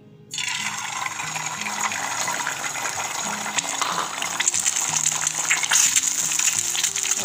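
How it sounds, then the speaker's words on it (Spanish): Eggs dropped into hot oil in a frying pan burst into a loud, steady sizzle that starts abruptly and keeps crackling and spitting close by, with no talk. "Sartén con un poco de aceite y ya esté un poco caliente, vamos a agregar nuestros huevos."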